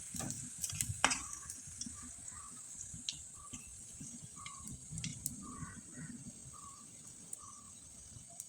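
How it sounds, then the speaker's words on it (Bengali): Jharna pitha frying in a wide, shallow kadai to make crisp fritters produces a faint, low bubbling sizzle broken by scattered small crackles and pops, heard alone without voices. "পিঠাগুলো যখন ভেজে নেবেন তখন একটু বড় ছড়ানো কড়াই হলে কিন্তু সবচেয়ে বেশি ভালো হয়"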